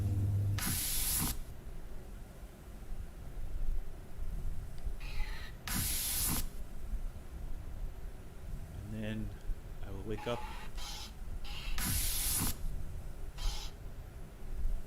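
Air vents in a video game give off loud, broad hissing bursts that recur every few seconds, with quieter game sounds and a voice speaking between them.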